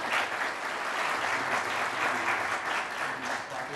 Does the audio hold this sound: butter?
no